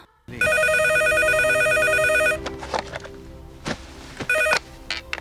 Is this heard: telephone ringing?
yes